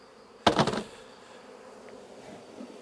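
Honeybees from a hive during a spring honey harvest, a sudden loud burst of buzzing and knocking for about half a second, then a faint steady hum lingering in the background.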